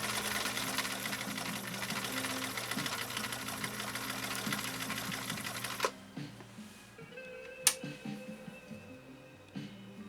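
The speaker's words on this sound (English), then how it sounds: "Let's lay down this next stitch row. Again, a zigzag through 6 layers of heavy grade denim." A 1960 Viking Husqvarna CL-21A sewing machine hums at a steady, fast rate as it zigzag-stitches through six layers of heavy denim, then stops abruptly, leaving faint clicks and handling noises.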